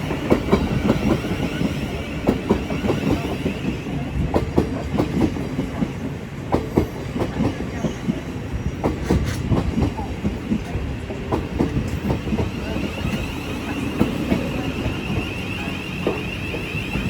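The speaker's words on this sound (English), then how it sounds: "Incoming now is the 1126 Tramlink service to Brighton from Bedford" A Thameslink passenger train rolls through East Croydon station on the Brighton Main Line, a loud continuous rumble with rhythmic wheel clatter and a steady tonal hum throughout.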